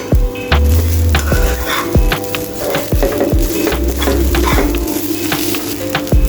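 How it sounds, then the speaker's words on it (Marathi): Grated coconut dry-roasting in a pan over medium heat for fried modak, a steady loud sizzle broken by repeated sharp scrapes and knocks of a spoon stirring it, no voices. "त्याच्यावरती हे खोबरं पूर्ण कोरडं होईपर्यंत परतून घ्यायचं आहे"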